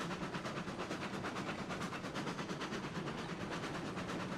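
A locomotive rolls along the track in the railroad game Railroads Online, giving a steady, dense rumble with fast rhythmic clatter that runs evenly throughout.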